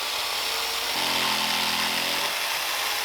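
A power saw cuts the edges off a wooden piece for an overhead camera mount, a loud continuous whine whose pitch steadies and deepens for about a second as the blade bites, then eases back.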